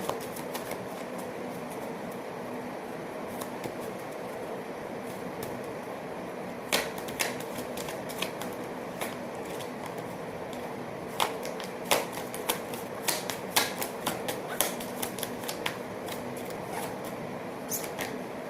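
Oracle cards being shuffled by hand during a reading, a steady soft riffling texture with sharper clustered flicks and snaps toward the end, close and fairly quiet, no voices.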